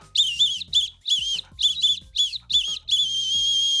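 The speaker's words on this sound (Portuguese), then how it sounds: "Vou tocar a peça inteira com dois apitos." Two whistles play a tune in quick, bright, chirpy bursts that sound almost birdlike, ending on one longer held note.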